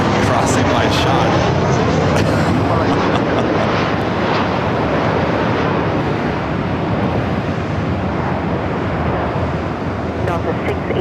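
Southwest airliner passing at LAX, a loud continuous broadband jet roar that fills the whole stretch, with wind buffeting the microphone and a voice talking underneath.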